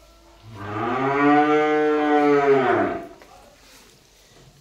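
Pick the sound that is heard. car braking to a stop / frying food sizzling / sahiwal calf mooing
sahiwal calf mooing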